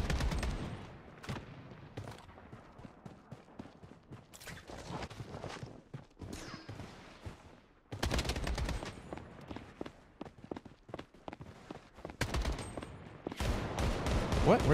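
Gunfire in the video game BloodStrike on the Shutter Island map: repeated loud bursts of automatic weapon fire in rapid volleys, separated by short pauses and footsteps.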